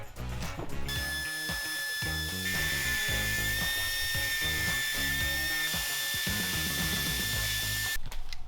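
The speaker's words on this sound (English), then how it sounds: "this little contraption is a burr bit" A burr bit on a power tool reams out a metal wheel-lift part on an International 4300 truck, whining at a high steady pitch with chattering, grinding bursts throughout, close and loud.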